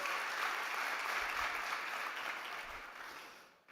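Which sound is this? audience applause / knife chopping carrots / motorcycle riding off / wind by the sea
audience applause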